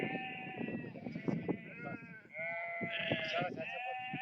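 A flock of sheep bleats in the mountains of Ziddi during shearing day, many overlapping cries near and far, with people talking throughout.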